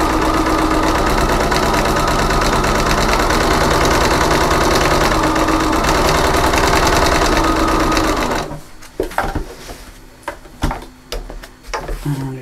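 A sewing machine runs steadily for several seconds while stitching fabric for a folding bowl. Its fast mechanical whir then stops and gives way to short, quieter bursts of stitching and handling noises.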